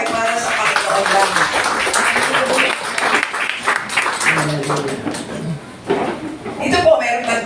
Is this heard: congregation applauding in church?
yes